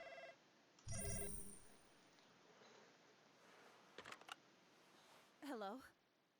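An old-style telephone rings twice in the NightCry horror game, a short bright burst near the start and another near the end, with faint clicks between and a quiet room-tone background.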